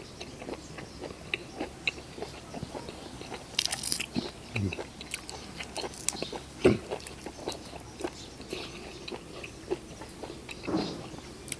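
Blanched squid, served with seafood dipping sauce, chewed up close, with repeated crisp crunches and bites that come in an irregular rhythm over a quiet background.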